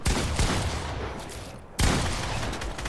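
A loud shotgun blast in a Fortnite tournament match cuts sharply through dense, noisy game action, one abrupt close shot standing out from the busy din.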